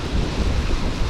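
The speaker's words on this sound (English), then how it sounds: "Oh, that wind." Wind buffets a microphone outdoors in Berlin, a dense, rumbling roar that surges unevenly through the short moment, loud and close with no voices.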